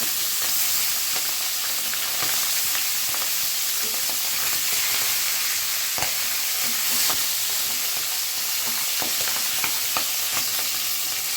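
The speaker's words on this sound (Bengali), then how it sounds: "মাছগুলো ভাজা হয়ে তুলে ফেলতে হবে, খুব বেশি ভাজবে না" Pieces of boal fish fry in hot oil, a steady dense sizzle with crackling pops and spatters throughout, close and continuous with no talking.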